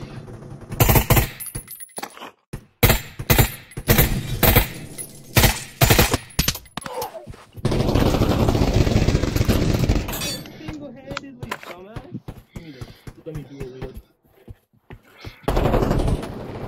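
A light machine gun fires in the VR shooter Pavlov VR, with loud bursts of rapid automatic shots broken by short pauses and a longer sustained burst in the middle, under occasional talk from players.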